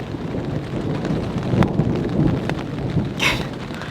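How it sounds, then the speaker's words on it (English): Thunder rumbles low beneath steady rain during a severe storm at a campsite, with a sharper crack near the end; no voices, just the continuous wash of rainfall. "I'm hearing some thunder now."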